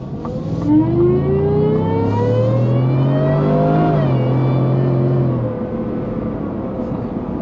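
A 2021 Ford F-150 pickup with a Whipple-supercharged 5.0L V8 of about 775 hp revs hard nearby, its pitch climbing in a long rising whine with supercharger squeal, then easing off as it settles.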